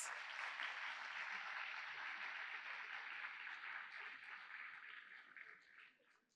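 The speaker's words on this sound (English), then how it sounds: "Let's hear a round of applause for our performers." A crowd at a school awards evening applauds dance performers, a steady dense wash of clapping that holds, then fades toward the end; fairly faint and distant, with no talk over it.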